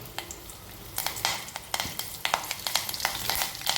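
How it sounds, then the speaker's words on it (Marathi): Curry leaves hit hot oil already holding fenugreek and cumin, bursting into loud crackling sizzle with sharp pops and spatters, close up, with some stirring. "आता मेथ्या गरम झालेल्या आहेत, जिरंही गरम झालेलं आहे. यामध्ये टाकूया आपण कढीपत्ता"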